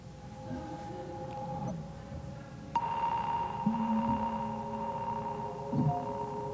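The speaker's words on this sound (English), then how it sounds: "It's a signal sent from a sensor in an elevator." Sonified data signal from an elevator sensor, heard as sustained electronic tones and a low hum with a few soft pulses and pitch shifts, steady and alone with no voices.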